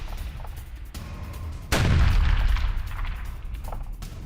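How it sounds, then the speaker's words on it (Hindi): A FAB-500 bomb blast from a Russian strike on a Ukrainian military site: one loud, deep boom that rumbles on and fades over a steady background roar, with no talk. "यूक्रेनी सैन्य ठिकाने पर फैब 500 बम से हमला किया गया।"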